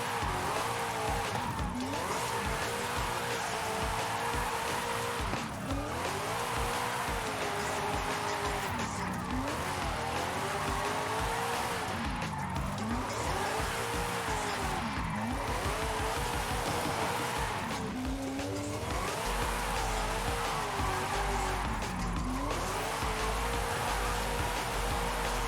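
A Gordini 8 drifting in the video game Forza Horizon 5, engine revving and bouncing in pitch through repeated slides while tires squeal continuously, loud and close over the full stretch.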